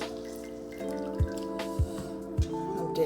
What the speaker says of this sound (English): Now I am going to mash the potato and the sweet potato.